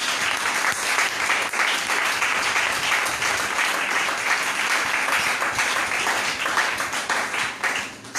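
A church congregation applauds loudly and continuously in acclaim, dense steady clapping from many hands filling the room for the whole stretch, with no clear speech.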